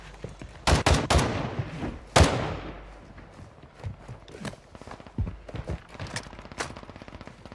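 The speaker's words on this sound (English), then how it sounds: "Assault rifle here." Assault rifle fire in Call of Duty, with several sharp, loud bursts of shots early on, then scattered fainter shots and footsteps-like clatter in the background.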